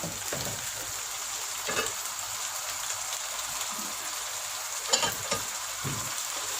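Chicken pieces for biryani frying over a high flame, a steady loud sizzle broken by a few sharper crackles and stirring scrapes, with no voices.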